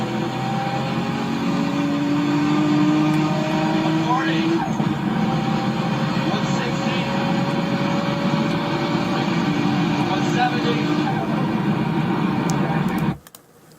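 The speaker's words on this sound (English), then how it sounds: "the way the blow-off valve is slow" A race car running race gas, with a boost leak and a slow blow-off valve, produces a continuous engine drone with rising and sweeping pitch tones, heard loud and close before ending abruptly near the end.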